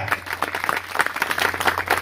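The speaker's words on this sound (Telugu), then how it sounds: "ఒకసారి చప్పట్లు కొట్టండి గట్టిగా." A church congregation claps loudly together in a brief, steady burst of applause.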